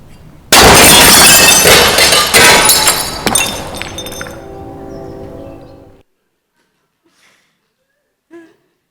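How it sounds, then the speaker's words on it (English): A window pane shatters with a loud, sudden crash. Shards clink and clatter as they fall, tapering off over several seconds into silence, with one small late tinkle. "a not entirely unpleasant sound of clinking and clanging as the whole window falls into pieces"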